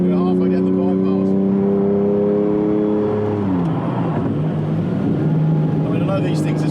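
Lamborghini Diablo SV engine accelerating hard, a loud rising harmonic roar that drops sharply at a gear change and climbs again, heard from inside with a voice talking over it.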